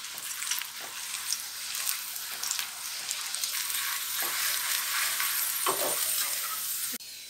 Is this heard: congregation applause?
no